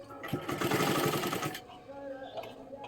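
A sewing machine runs in a quick burst, stitching piping onto fabric with a steady rapid mechanical chatter for about a second before stopping, close and fairly loud, with a voice faintly heard afterward.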